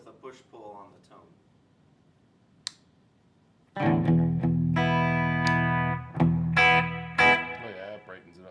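Electric guitar through a preamp pedal, played with two volume knobs and a tone control with its push-pull engaged: a short burst of talk and a pluck, then loud sustained chords ringing with bright overtones and a couple of fresh strums.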